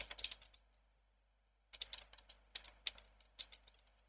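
Clicks and taps from a computer keyboard and mouse during a session of the DarkOrbit online game, arriving in quick irregular bursts, close and fairly quiet, with a brief pause early on.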